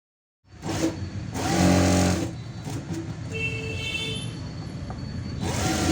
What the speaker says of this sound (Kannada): ಲೈನಿಂಗ್ ಏನಿದೆ ಸುತ್ತ ಸ್ಟಿಚ್ ಹಾಕ್ಕೊಳ್ಬೇಕು